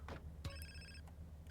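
A phone rings in Grand Theft Auto San Andreas Definitive Edition, two short bursts of bright electronic ringing, the second a longer trill, over a faint low game hum with no talking.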